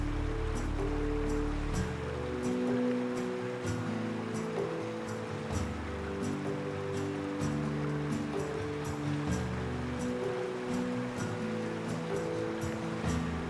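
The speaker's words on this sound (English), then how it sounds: "Soon we enter a narrow stream." Water of a narrow stream in a Fiji rainforest gives a steady, continuous rushing wash throughout, heard under a low droning background tone.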